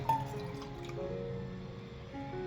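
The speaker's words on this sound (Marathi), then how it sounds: "याच्यात मी आता पाणी शिजायला ठेवणार आहे" Water poured into a thick-bottomed cooking pot in a home kitchen, a quiet steady filling sound with rising tonal ringing, close and alone without talk.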